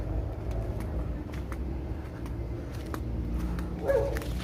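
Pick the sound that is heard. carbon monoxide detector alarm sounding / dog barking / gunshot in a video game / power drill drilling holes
dog barking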